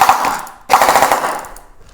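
An LCT PKP Pecheneg airsoft electric machine gun fires two rapid bursts of mechanical chattering, loud and close, with a short gap between them.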